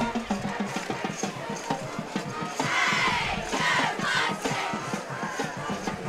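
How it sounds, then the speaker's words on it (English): A large crowd at a homecoming varsity football game roars and cheers in a dense, sustained wash of voices, swelling louder midway, with rhythmic chanting and shouts close by. "There is a excellent crowd."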